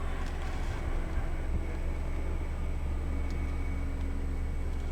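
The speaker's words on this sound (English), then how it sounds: "if you hear the noise in the background. Yes, it is my husband plowing the snow" A steady low snow plow engine rumble drones outdoors at a distance, constant and unbroken with a faint hiss of background noise.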